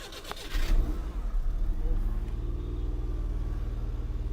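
A Suzuki FX car engine catches after a few clicks, rumbles briefly louder, then settles into a low, steady idle hum heard close up.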